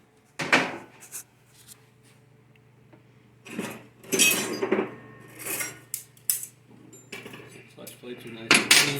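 Metal clutch plates from a 4L60E automatic transmission clink and clatter during reassembly, with bursts of bright metallic rattling and tapping that come and go over several seconds, close by, with no talk.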